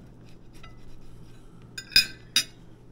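A knife cuts into a sausage and egg biscuit made with biscuit dough, giving two sharp, close clinks of metal against the plate after a quiet lead-in.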